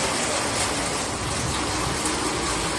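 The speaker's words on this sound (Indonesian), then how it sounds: "Hujan deras sekali." Heavy rain pours steadily over Jeddah, Saudi Arabia, in a dense, continuous hiss with no voices.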